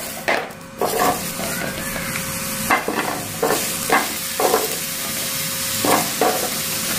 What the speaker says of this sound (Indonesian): Kita panggang jengkolnya. Ini cabenya kita panggang juga buat sambal.